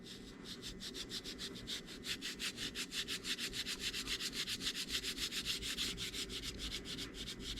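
Steady rhythmic scrubbing of brass liners inside a Solingen bear hunter knife handle with a scrap of Scotch-Brite kitchen scouring pad, close and continuous back-and-forth rubbing strokes with no talk.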